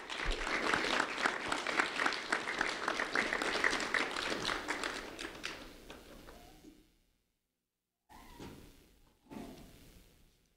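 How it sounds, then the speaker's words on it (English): An audience at a school recognition event applauds, a dense, loud burst of clapping that tapers off after about seven seconds, followed by silence and a couple of brief knocks or shuffles. "A round of applause for Antonio Navarro."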